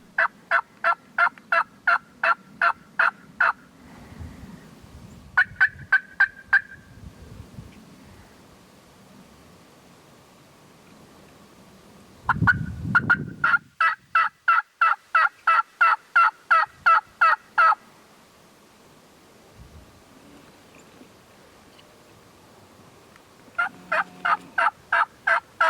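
Wild Rio Grande turkeys gobble near decoys in rapid bursts of sharp, rattling calls, several loud close volleys separated by pauses, with rustling and low background noise between.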